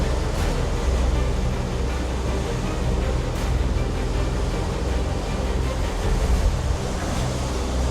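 Continuous loud rushing of sea water and wind churning around a sailboat crossing a bar through breaking waves, with no voices.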